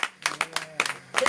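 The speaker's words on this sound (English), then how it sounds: "We might as well give him a round of applause." Scattered hand claps from a small group applauding a guitar performance, uneven and sparse, with a handful of bursts rather than a full ovation.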